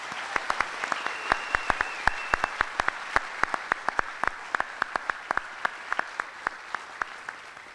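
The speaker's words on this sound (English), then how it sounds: "give these 3 faculty members, as well as all of our faculty members, a large round of applause" Applause for faculty members at the 2013 California Maritime Academy commencement: sparse, distinct hand claps rattling on at a fairly steady pace, sounding like a modest crowd in a large hall, with no speech over them.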